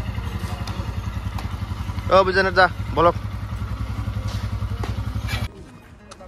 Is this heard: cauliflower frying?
no